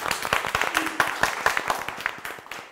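Scattered clapping from a small studio audience and judges at a comedians' show; distinct individual claps in an uneven rhythm, fairly close and modest in volume, thinning out toward the end.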